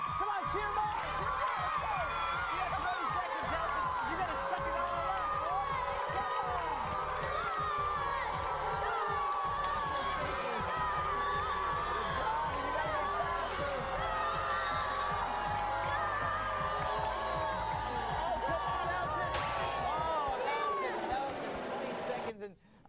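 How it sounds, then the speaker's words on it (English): A studio audience of children shouts and cheers loudly and continuously through a Jell-O eating challenge on a game show, with excited voices whooping, before the noise cuts off abruptly at the end. "Come on, cheer them on! Cheer them on."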